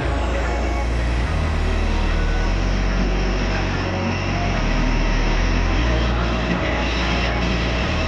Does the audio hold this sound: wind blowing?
no